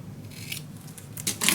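Scissors cutting through decorative paper for a handmade suitcase project: a few short, close snips and slicing rasps, growing louder and sharper toward the end.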